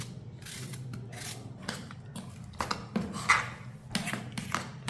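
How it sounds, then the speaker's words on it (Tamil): A knife cuts a peeled quarter apple on a board for a ragi porridge, with several close, short slicing and tapping strokes, the denser cuts toward the end. "இப்போ இதை வந்து கட் பண்ணி போட்டுக்கிடுவோம்."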